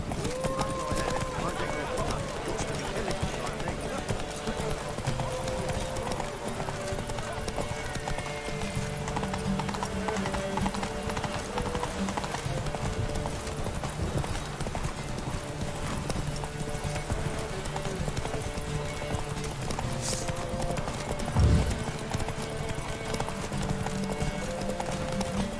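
A horse gallops in a race in The Witcher 3, with fast, continuous hoofbeats drumming throughout alongside occasional snorts and whinnies, while a person talks over the action.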